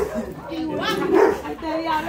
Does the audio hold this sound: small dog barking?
yes